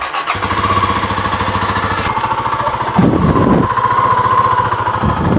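A cheap running motorcycle starts, then idles and revs in a loud, close, steady putter, with the engine note shifting at a few points as the throttle changes.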